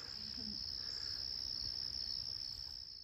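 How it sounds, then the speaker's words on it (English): Crickets chirp steadily through a small-town summer evening as goldenrod blooms, a continuous high insect trill that holds at an even level for the whole stretch with no voices. "we savored little moments of cricket sound serenity in the evenings"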